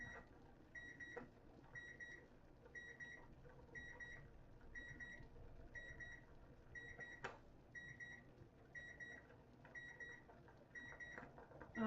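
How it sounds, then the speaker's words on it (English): Repeated electronic kitchen timer beeps sound in regular bursts roughly every second, steady and moderately loud over low room noise during a live yarn-dyeing session at home. "Sorry about the timer going, guys."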